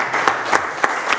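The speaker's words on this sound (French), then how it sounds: "sur nos applaudissements" A short burst of steady applause from a crowd, dense and fairly loud, with no voices rising above it.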